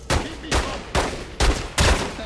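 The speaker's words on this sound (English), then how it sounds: "Shoot him in the knee and shoot him in the head." Five sharp pistol gunshots from The Godfather II video game, evenly spaced about half a second apart, each a loud close crack with a short decaying tail.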